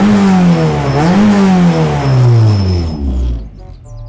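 A Honda Civic EF9 VTEC engine with about 19,000 km revs high and loud nearby, then its pitch falls steadily as the revs drop back toward idle.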